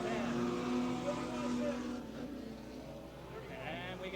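Late model stock cars racing at Brighton Speedway in 1992, a loud, steady engine roar with droning tones shifting in pitch as cars pass, under an announcer's voice.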